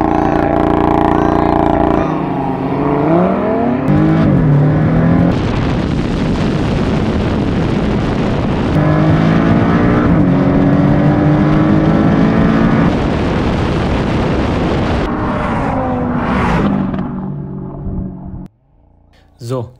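A Porsche 718 prototype and an Audi TTRS accelerate hard in a drag race, engines roaring loudly through rising gear pulls with shifts between them, the noise easing off near the end.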